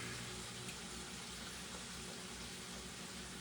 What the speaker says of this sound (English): I'm going to rinse this can out.